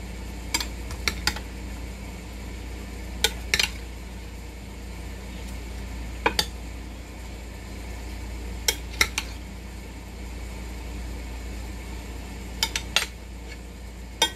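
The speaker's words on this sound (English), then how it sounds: "Now we just need a good sturdy spoon to give it a big stir." A sturdy spoon stirs au gratin potato mixture with parsley flakes in a bowl, giving scattered sharp clinks and scrapes in small clusters over a quiet, steady background hum.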